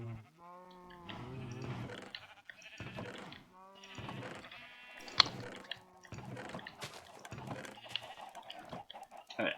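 Sheep in Minecraft bleat repeatedly in a game world, several overlapping calls in quick succession with short gaps, fairly loud and close, with no talking over them.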